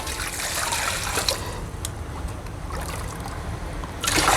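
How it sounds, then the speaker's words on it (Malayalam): Water pours steadily into a container being prepared for hatching moina eggs, a continuous trickling rush close by with no talking, swelling a little louder near the end. "ഇതിലേക്ക് നമുക്ക് വെള്ളം ഒഴിച്ച് കൊടുക്കാം"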